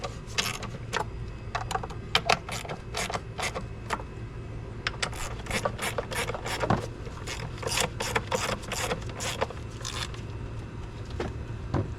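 Rapid ratcheting clicks from a socket wrench snugging up the oil filter housing bolts on a 2012 Chrysler 300 with the 3.6L Pentastar V6, in uneven bursts of sharp close ticks over a low steady hum.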